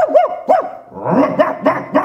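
A male preacher at a university spiritual retreat vocally imitates a dog, giving a run of loud, close barks and yips in quick bursts, the voice mimicking an actual dog.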